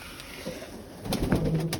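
Pigeons coo softly in the background, the cooing growing fuller and louder toward the end amid low ambient noise.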